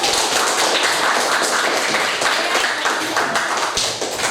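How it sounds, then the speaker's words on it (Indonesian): Students in a classroom clap together for a presenting group during a social studies lesson, a dense, steady patter of hands filling the room throughout. "Kita berikan tepuk tangan kuat"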